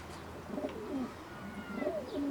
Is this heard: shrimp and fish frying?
no